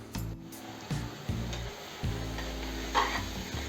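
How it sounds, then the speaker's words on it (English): Ground tomatoes cook over a high flame for a dry fish curry, with a low sizzle under repeated scraping stirs and a steady background hum, no voices. "Increase the flame and allow the tomatoes to cook."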